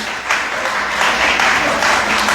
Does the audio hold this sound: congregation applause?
yes